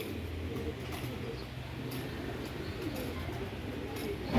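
Low, soft cooing of racing pigeons at a pigeon tournament repeats steadily under a constant background hiss, with faint voices murmuring now and then.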